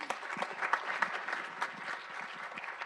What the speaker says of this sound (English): please give a round of applause for Sarah